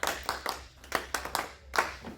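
Classmates in a classroom clap their hands for a student during a lesson, about ten distinct claps in a loose, slightly uneven rhythm, close and clear with no talking.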